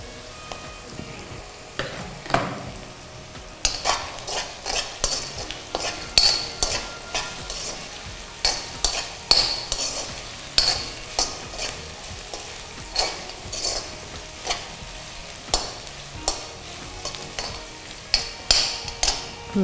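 Onions sautéing with a little salt in a pan for seer fish curry, a low sizzle under a long run of regular, rhythmic spatula taps and scrapes against the pan, with no talking.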